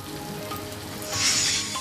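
Rain falls in Raigad during a stormy pre-monsoon shower, a steady close hiss that swells briefly louder near the end, with no one speaking.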